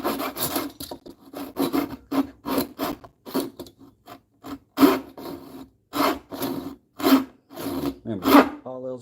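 A pull saw cutting wood in repeated rasping strokes, an irregular rhythm of short scrapes close up, with someone speaking briefly between strokes.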